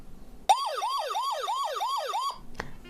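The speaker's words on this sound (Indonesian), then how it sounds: "atau even mungkin tetangga kita juga bisa bangun guys dengan suara alarmnya ini." A Bardi smart home alarm siren wails loudly indoors in a fast, repeating up-sweeping whoop, about six cycles over two seconds, then cuts off abruptly, followed by a brief click.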